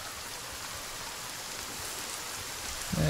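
Steady rain in the survival video game The Forest, a dense, even hiss of falling drops that holds at constant loudness throughout, with a faint brief tone near the end.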